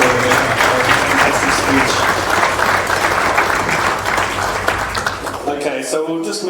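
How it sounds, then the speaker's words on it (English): A fundraiser audience applauds after a speech, loud close clapping that continues steadily and then fades out at the end. "Please, another round of applause."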